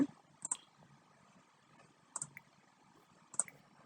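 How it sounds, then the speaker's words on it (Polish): Three sharp computer mouse clicks, each a quick double tick, spaced over a few seconds against a faint background hum. "No przecież klikam"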